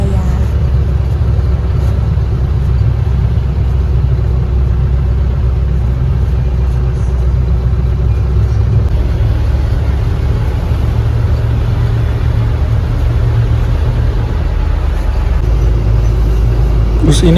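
A Surabaya–Mojokerto city bus engine drones steadily from the front seat beside the driver, a continuous low rumble with road noise. The sound holds constant throughout and is joined by faint background voices.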